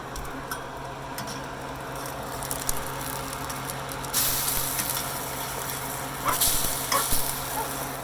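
Bread fries in a hot pan with a continuous sizzle, which grows louder and brighter about halfway through as another piece goes in, alongside light scraping from a spatula and no speech.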